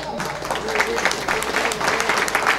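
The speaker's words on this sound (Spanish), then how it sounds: "Fuertes aplausos." A gathered crowd at the inauguration of three classrooms in Caserío Tuixcum, Tajumulco, bursts into steady applause, a brief close wash of many hands clapping with some voices mixed in.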